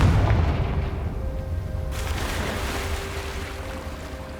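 A Confringo blasting spell explodes in Hogwarts Legacy, a loud booming blast at the start that rolls off into a long rumbling decay.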